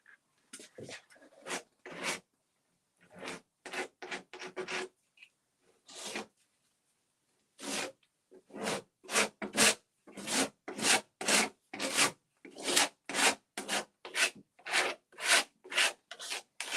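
A mud spatula scraping textured paint over a black textured surface, heard as rhythmic, close rasping strokes, sparse and spaced at first, then a steady run of quick repeated scrapes with no talk.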